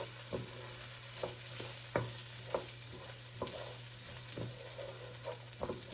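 Rice toasting in a pan for Spanish rice sizzles softly while being constantly stirred, with regular spatula scrapes and taps over a steady low hum, close and without talking.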